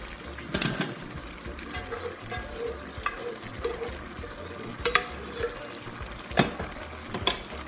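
Vegetable soup with soft cooked meat and oil being stirred in a pot, with a steady low sizzle and bubbling under a few sharp scraping clinks of the spoon against the pot.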